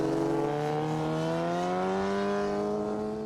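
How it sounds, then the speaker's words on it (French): A motorcycle engine on a race track, one steady droning whine that rises gradually in pitch and holds loud and close for a few seconds. "Faire de la moto sur piste, c'est possible"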